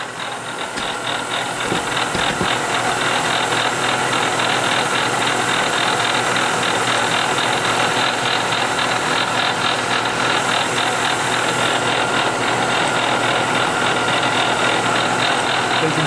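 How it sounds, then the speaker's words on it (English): An end mill cuts scope rings for a Browning A-Bolt rifle, making a continuous loud, close mechanical whir and chatter that holds steady for the full stretch, with no one talking. "You can see I'm just milling to the line."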